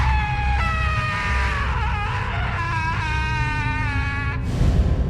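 A woman lets out a terrible, drawn-out scream, a loud wavering wail that bends and quavers in pitch for about four seconds over a rough rumbling background, then cuts off abruptly.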